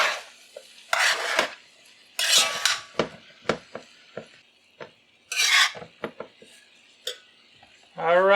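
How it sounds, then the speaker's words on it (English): Two metal spoons scrape and stir fried rice in a big wok, giving repeated rasping strokes and clinks in uneven bursts, loud and close, with a brief voice near the end. "So when you got big wok, you need 2 spoons."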